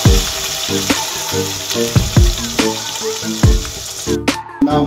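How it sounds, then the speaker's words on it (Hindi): Oil poured into a hot kadhai-style wok, loud close sizzling with repeated sharp splashes and spits and a steady hiss underneath, with no talking. "देखो मैंने कढ़ाई रख दी है, अब मैं इसमें तेल डालने वाला है।"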